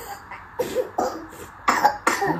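A person coughs several times in quick separate bursts, close and fairly loud, with short pauses between them.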